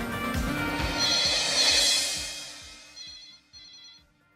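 A telephone ringtone plays as a call is placed, a melodic electronic tune that fades and then gives a few short repeated chirps before stopping, fairly close and without talk over it.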